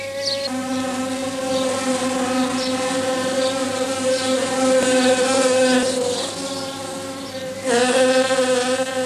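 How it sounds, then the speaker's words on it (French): Bumblebees and honeybees buzz steadily and continuously up close around ivy flowers, a droning hum that swells slightly as insects move nearby. "Alors arrivent les faux bourdons qui adorent le pollen du lierre"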